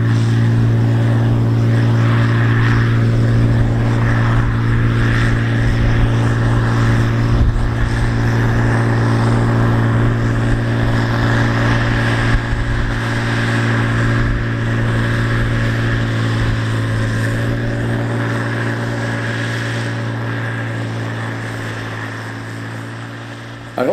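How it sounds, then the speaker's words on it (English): An Oliver 1850 tractor engine drones loudly and steadily as it pulls a 466 chisel plow through a field, a deep constant hum that fades slightly toward the end. "hearing and seeing this Oliver 1850 tractor and 466 chisel plow working on primary tillage"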